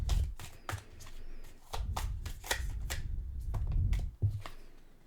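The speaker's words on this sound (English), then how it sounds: "Okay, so we'll grab some cards from this deck." Cards being shuffled and drawn from a deck, soft riffles and slides with light taps and flicks, quiet and close, with no talking.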